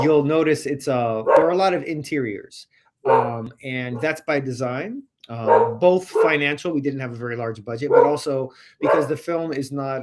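A dog barks and yips intermittently in the background while a person speaks steadily in the foreground during a filmmaker interview.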